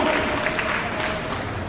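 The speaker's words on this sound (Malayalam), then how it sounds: "നിറഞ്ഞ കയ്യടികളോടെ ശ്രീ ഇനാം റഹ്മാൻ അവരെ വേദിയിലേക്ക് ക്ഷണിക്കുന്നു" A crowd claps steadily and loudly as a guest is welcomed onto the stage at a biryani cooking contest, with dense, even applause throughout.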